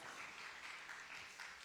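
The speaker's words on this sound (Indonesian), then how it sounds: "kasih tepuk tangan untuk Cindy Angela" Congregation at a Sunday church service clapping for a speaker being called up, a faint, steady wash of applause heard from a distance with no voices over it.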